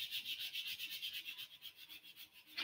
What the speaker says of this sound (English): when sanding this wood filler down